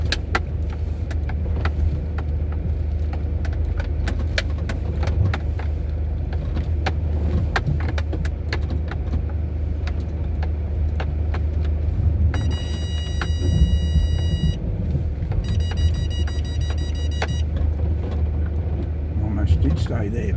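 A car drives along a dirt track near Cowra, Australia, with wheels struggling for traction, producing a continuous low rumbling engine and road noise with scattered knocks and clatters throughout, plus a couple of brief electronic tonal beeps partway.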